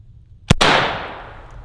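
An AK-47 rifle fired after a mud torture test gives one sharp, loud, muffled shot, followed by a long decaying rumble.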